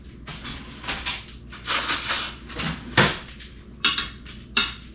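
Spoon scraping and clanking in a dish while mixing keto meatball casserole ingredients with onions, a series of close, loud irregular clatters and scrapes with short pauses between strokes.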